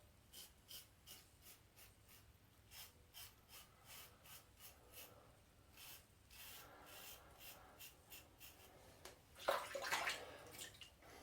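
A Vikings Blade adjustable double edge safety razor scrapes across the grain, giving a steady run of short rasping strokes up close, ending in a brief louder scratchy burst.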